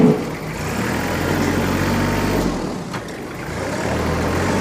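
A 2013 Kubota L3800D tractor engine runs at a steady, rumbling idle close by, a continuous low drone that dips slightly partway through.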